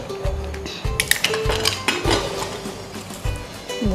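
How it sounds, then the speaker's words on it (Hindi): A home kitchen pressure cooker holding corn cobs for butter masala corn is opened, giving a run of metallic clanks, clinks and knocks from the lid and pot, close and irregular over a low background rumble. "कुकर को खोल कर हम भुट्टे को चेक करेंगे।"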